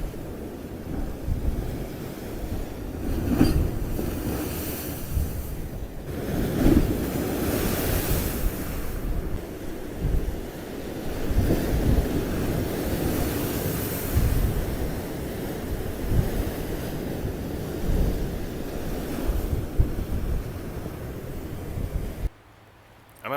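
Waves break steadily on a UK beach in a continuous, loud wash of surf, with wind buffeting the microphone throughout and no talking.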